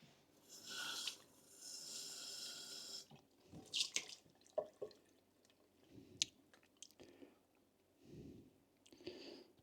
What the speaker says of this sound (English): Give them a little bit of a rinse.